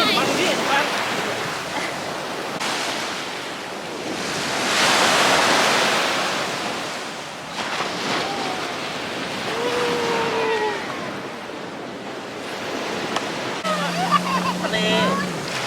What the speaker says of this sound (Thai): ทะเล